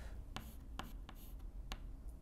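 Pen or marker sketching an electron diagram by hand during a chemistry lesson, a series of short, faint scratchy strokes over a steady low background hum.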